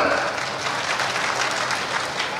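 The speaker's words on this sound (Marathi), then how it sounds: "जोरदार टाळ्या" An audience at a political speech in Maharashtra breaking into loud applause, a dense, steady wash of clapping filling the whole stretch with no pauses.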